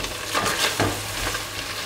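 Pelmeni are stirred in a kazan while frying with a pinch of salt, giving brief scraping stirs over a soft continuous sizzle, close and short, with no speech.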